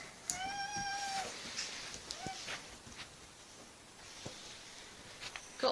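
A house cat lets out a clear, drawn-out meow near the start, then a shorter meow, with faint footsteps and household shuffling in a quiet room.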